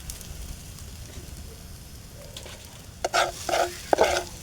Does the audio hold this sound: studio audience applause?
no